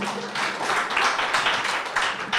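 A classroom audience at a lecture claps for themselves, a dense, steady patter of many hands filling the whole stretch at moderate loudness with no pause.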